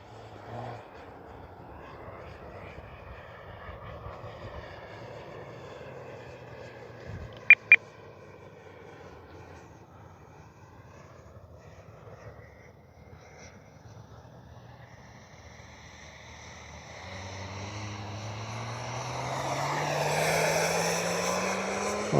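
An Arrows RC F-15 twin 64mm model jet's engine whine builds and rises in pitch over the last few seconds, growing louder as it passes overhead, after a stretch of quieter engine hum with two brief clicks.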